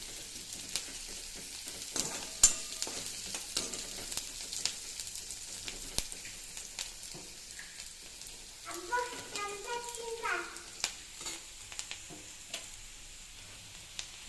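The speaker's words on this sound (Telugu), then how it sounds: "కొంచెం వేగనివ్వాలి" Ingredients fry in a pan for a quick snack, a soft, steady sizzle with scattered faint crackles and light ticks, quiet and close, with a brief murmur of voice midway.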